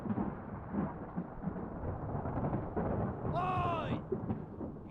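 A thunderstorm rumbles on a ship at sea in Return of the Obra Dinn, a broad steady roar of rain and thunder with a brief tonal creak or call rising near the end.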